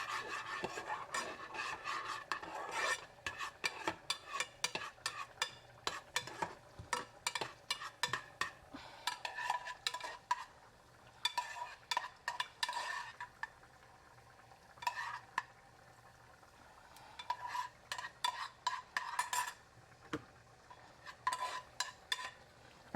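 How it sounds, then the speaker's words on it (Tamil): A spoon stirs and scrapes through ghee in a pan as ingredients fry for a Vinayagar Chaturthi payasam, with intermittent rasping strokes and a faint sizzle underneath. There is no talk. "நெய்யில் ஃப்ரை பண்ணிட்டு"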